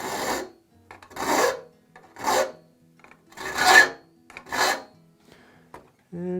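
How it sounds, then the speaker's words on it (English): Hand file rasping across the rakers of a crosscut saw in five separate strokes, each a harsh, close scraping burst with short quiet gaps between. "Then we can come in with a filing gauge that is made for it. File those into a nice point."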